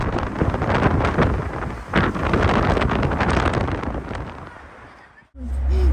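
Strong outdoor wind buffets the microphone in a loud, continuous roar with gusty swells, cut briefly by a short dropout before the rumble returns.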